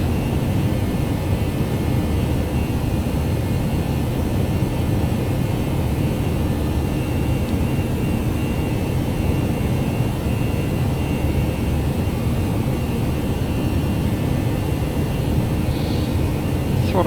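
Airbus A319 jet engines roar steadily while climbing out after takeoff in the X-Plane 11 flight simulator, a continuous loud broadband rumble that holds constant without breaks.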